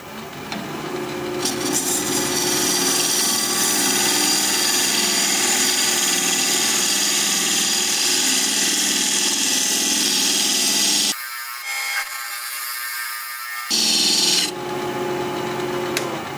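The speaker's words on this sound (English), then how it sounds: "We're going to be turning at 1200 RPM, 5/8 inch bowl gouge" A wood lathe spinning at 1200 RPM while a 5/8 inch bowl gouge cuts a wooden bowl, giving a steady loud scraping, rasping hiss that stops briefly near the end, then resumes.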